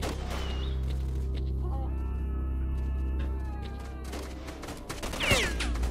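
Gunfire while shooting bandits in the STALKER Lost Alpha video game, a few sharp shots breaking over a low steady hum and ambient drone, louder toward the end.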